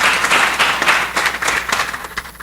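An audience applauds after a speaker is given a garland at a talk, with steady, dense clapping throughout that thins a little toward the end.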